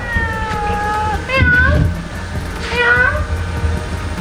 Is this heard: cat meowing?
yes